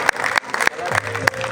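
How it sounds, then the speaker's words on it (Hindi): Applause for achievers at a college prize event in Bhakkar, a loose crowd clapping with several sharper claps standing out, while a voice speaks over it. "a big round of applause"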